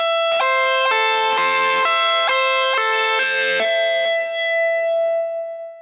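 An electric guitar tapping pattern with distortion, played slowly and evenly: a loud, sustained sequence of clear repeating notes that ends on a long held tone, with no talking.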